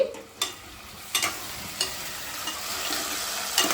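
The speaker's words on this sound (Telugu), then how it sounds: "ఆలు వేగుతున్నాయి" Potatoes fry in a pan for an aloo vankaya curry, giving a steady soft sizzle with a few sharp stirring scrapes at intervals, close and fairly quiet.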